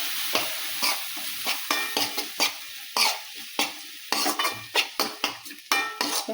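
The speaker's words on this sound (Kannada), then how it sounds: "ಈ ನುಚ್ಚಿಬೇಳೆ ಹಾಕಿ ಚೆಂದಾಗಿ ತಿರುಗಾಡಬೇಕು" Broken lentils are stirred in a hot pan, with a quick run of scraping spoon strokes and metallic taps over a soft sizzle, close and continuous with no speech.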